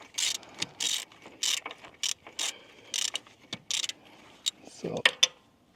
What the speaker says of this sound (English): Easier to use a ratchet key.